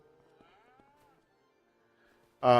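Cows on a Farming Simulator 25 farm map low softly and faintly in the background, then one loud, close moo bursts in at the very end.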